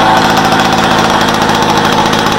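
A Solex 3800 moped engine idles while warming up, a loud, close, steady rapid putter with an even mechanical drone throughout.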